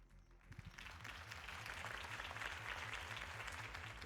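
A crowd bursts into sustained applause after Harvey Dent's campaign speech in the Batman Telltale video game, a dense wash of clapping that swells and holds steady.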